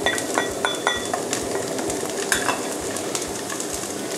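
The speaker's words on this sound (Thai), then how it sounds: "พอน้ำมันกรอกร้อนแล้วนะครับก็เอาผักลงไปเลยครับ" Carrot and corn stir-fried in hot oil in a wok, with a steady loud sizzle, repeated scraping stirs and light clinks of a utensil against the pan, no talking.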